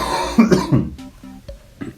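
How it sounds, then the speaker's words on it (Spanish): A woman coughs a few times in quick succession, close and fairly loud, with some throat clearing, and then a couple of faint softer sounds follow. "ahora traigo un poquito de tos más aguda"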